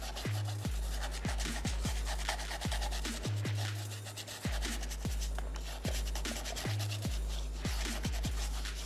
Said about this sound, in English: takes a little bit of scrubbing. The more you scrub it, the better it looks.